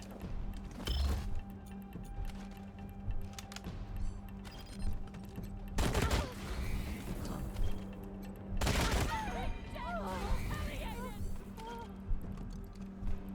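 Gunfire from Wasteland 3, with several loud bursts of shots around one, six and nine seconds over continuous game ambience, and voices heard in between.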